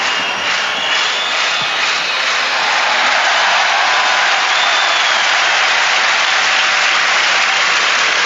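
A large crowd at a 1991 Rugby World Cup match between Canada and New Zealand applauds a goal kick with loud, steady, sustained clapping and roaring that fills the whole stretch.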